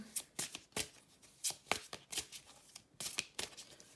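Tarot cards being shuffled and drawn, crisp papery riffles and flicks coming in quick irregular bursts, close and fairly loud, with no talking.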